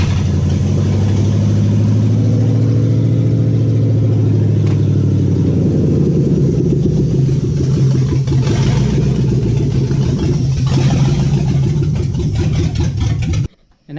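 A truck engine runs loud and rough with no exhaust system or O2 sensors connected, a steady close-up roar with a deep low rumble and uneven pulsing that continues for about thirteen seconds before cutting off abruptly.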